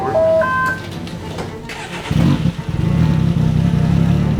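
A race vehicle prepared for King of the Hammers, freshly fitted with a short length of hose and a valve, cranks and then catches, settling into a loud, steady, rumbling run up close after a brief quiet start.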